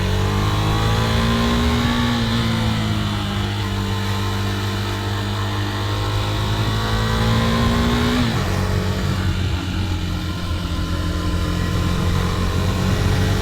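A 2021 KTM Duke 390 motorcycle engine pulls steadily from low revs on a main road, a loud close drone rising in pitch, dropping briefly at a shift, then climbing again with constant wind roar.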